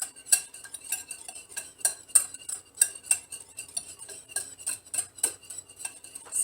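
Sugar is stirred into an egg mixture with a spoon, making a brisk, steady series of light metallic clinks and taps against the bowl, close and fairly quiet, with no voices.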